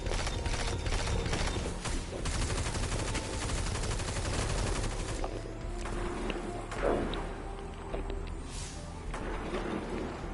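Sustained rapid gunfire fills the video game Blackblader-X, a dense, loud stream of shots for several seconds that thins out into scattered bursts and mechanical clatter.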